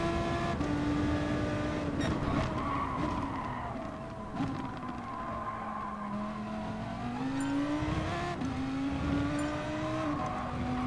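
A Gr3 race car lapping Catalunya in GT Sport, its engine note climbing and dipping through gears with rising and falling pitch, steady and fairly close, with no talk over it.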